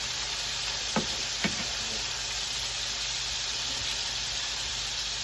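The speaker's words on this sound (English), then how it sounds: "Okay, hamburger is cooking good." Hamburger meat frying in a pan on a home stove, a steady soft sizzle throughout with two brief knocks near the start.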